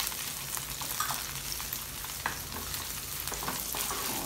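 Onions frying in a pan for kung pao chicken, a steady close hiss and crackle with a few light utensil scrapes, no talk.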